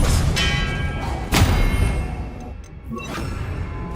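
An Expelliarmus disarming spell in Hogwarts Legacy lands as a loud thump and whoosh with a ringing shimmer, followed by a quieter second impact and lingering magical tail, no speech.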